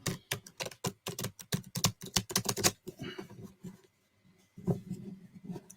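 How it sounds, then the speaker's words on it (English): A tarot card deck is riffle shuffled, a fast, crisp flurry of card flicks lasting about three seconds, followed by a short pause and a softer rustle of cards being squared. "That wasn't a bad riffle shuffle, that one."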